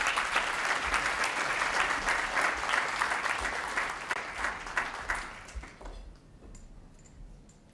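An audience applauds to welcome a panel moderator and panelists at a public sector plenary, with steady, dense clapping that tapers off and fades away near the end.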